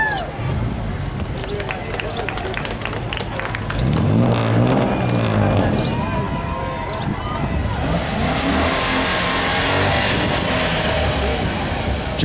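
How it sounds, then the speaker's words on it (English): A 2013 Dodge Challenger rolls through a small-town centennial parade in Winifred, Montana, its engine rumbling steadily and swelling briefly, mixed with crowd chatter and people talking nearby. ".308 is a 2013 Dodge Challenger owned by Ken and Terry Thompson."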